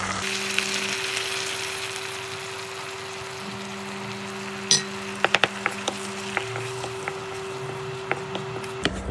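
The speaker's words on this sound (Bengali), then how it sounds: "আমরা এখানে পেঁয়াজ, আদা, রসুন এবং কাঁচামরিচ একসঙ্গে বেটে রেখেছিলাম, সেটা এখন এখানে দিয়ে দিচ্ছি" A ground paste of onion, ginger, garlic and green chili frying in a pan, a steady sizzle throughout with a few sharp clinks of a utensil against the pan, no voices.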